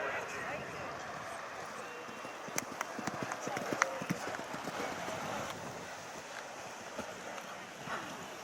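A horse galloping cross country at the Blenheim Palace International Horse Trials, hoofbeats thudding in a quick rhythm at middle distance under a commentator's continuous speech.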